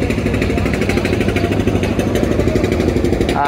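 A trawler boat's engine chugs steadily and loudly throughout on a river, in reverse gear, a dense, constant mechanical drone with no pauses.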